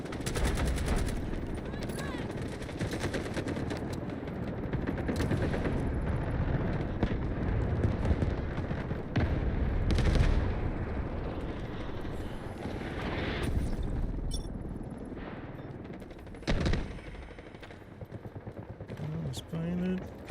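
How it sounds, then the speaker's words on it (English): Dense rumbling gunfire and blasts fill an artillery barrage in the Delta Force video game, a sustained roar of explosions and rapid shots with a voice speaking over the din. "Artillery barrage ready."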